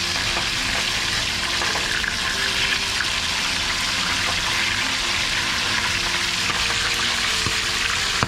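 Fish fries in oil with a dense, constant hiss and crackle that holds level throughout, with no talking.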